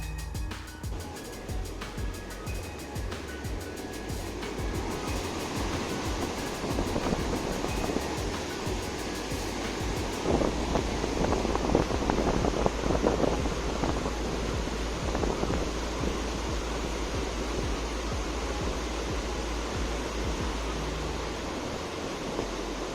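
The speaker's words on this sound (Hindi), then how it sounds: "वैसी ही ये थी सावित्री रिवर, और ये काफ़ी शोर कर रही थी।" The Savitri river rushing loudly near Mahabaleshwar, a broad continuous roar of flowing water with some wind, steady and close, swelling slightly in the second half.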